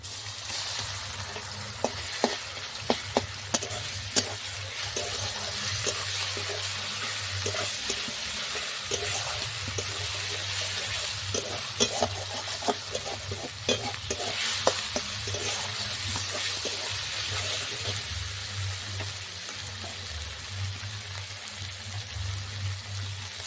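Garlic, ginger and green chili paste fries in a pan with a steady sizzle, broken by scattered scraping clicks of stirring and a low hum throughout.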